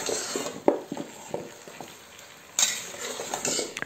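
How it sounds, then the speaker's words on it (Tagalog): Ripe papaya being stirred and sautéed in a pan, with utensil scrapes and clinks over a soft frying sizzle, irregular strokes close by and a louder burst of sizzling partway through. "Gisain lang natin yan ng 1 minuto."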